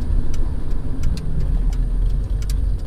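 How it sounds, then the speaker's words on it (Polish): A BMW Z1 engine runs steadily nearby, a smooth low rumble with faint clicks and ticks over the top, no voices. "Ale silnik chodzi naprawdę super"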